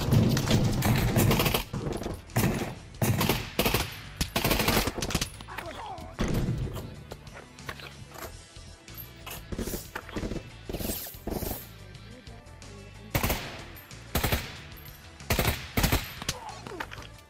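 Loud AUG and M4 gunfire in Pavlov VR team deathmatch gameplay, heard as rapid automatic bursts and repeated single shots that come in clusters and stay close and harsh throughout, with pauses between the volleys.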